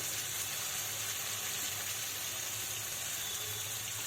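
Ginger-garlic paste frying in spices in a pan for roasted broccoli, a continuous close sizzle that holds steady and fairly quiet from start to end.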